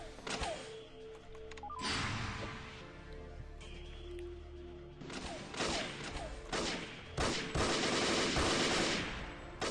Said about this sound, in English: That was a whole lot of wasted bullets. Yeah, I shouldn't mag them, but I should just pace my shots.